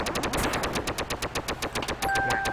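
Rapid automatic gunfire from a weapon in the video game Duck Game, a fast unbroken string of loud, evenly spaced shots lasting the whole stretch, with a brief electronic tone near the end and no speech.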